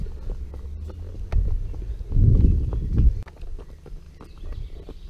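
Icelandic horses move along a forest trail, hooves thudding and clopping irregularly at close range, with a louder burst of shuffling hoofbeats in the middle and soft rustling around them.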